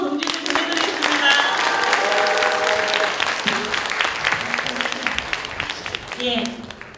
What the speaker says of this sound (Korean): 큰 박수로 동지들 보내드리겠습니다